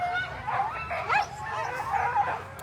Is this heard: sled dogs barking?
yes